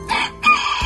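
A rooster crows in a short, loud, harsh burst that breaks off abruptly, heard up close with no talking.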